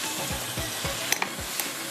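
A spoon stirs biryani masala with tomatoes, garam masala, coriander and chillies in a pot, with a soft continuous sizzle and regular scraping strokes, a few light metallic clinks, and no talking.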